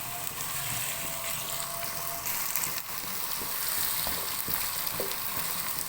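Mixed vegetables for a vegetable pulao sauté over a medium flame, a steady close frying sizzle with scattered stirring scrapes and clicks throughout, no voices.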